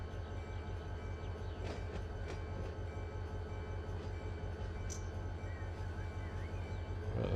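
Freight train rumble from the Run8 Train Simulator game, with a steady low engine drone and rhythmic wheel thumping running throughout, plus faint metallic squeals and clanks.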